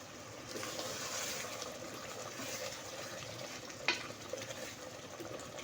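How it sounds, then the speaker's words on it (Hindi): Mutton bhuna in a pot being stirred after coriander is added: a low, moist bubbling sizzle with a single sharp clink of a spoon partway through, quiet and close. "हरा धनिया ऐड करूँगी और इसको हम मिक्स कर लेंगे सही से"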